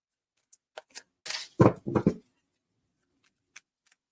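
Tarot cards being shuffled up close: a few sharp papery snaps, then a dense, rushing flurry of card flicks, followed by quiet and one last soft tap.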